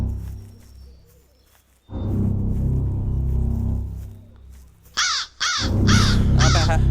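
Harsh crow caws in a dinosaur survival video game, several loud, rasping calls near the end following a rumbling low-pitched ambient roar, with no talk over them.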